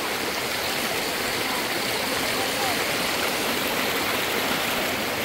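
Water rushing in a stream near waterfalls at Clarin, Bohol, in the Philippines: a loud, constant, broadband roar with no breaks, heard close by throughout.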